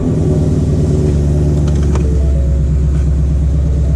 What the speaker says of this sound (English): Perfect, now we can turn on the car.